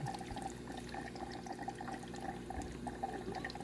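A Bosch dishwasher refills through its inlet valve: a steady, soft rush of running water over a low mechanical hum, continuous throughout.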